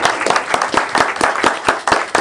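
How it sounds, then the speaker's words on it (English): Applause from a council meeting audience honoring a recognized guest, a steady run of many hands clapping close by for a couple of seconds with no voices over it. "Give her a round of applause."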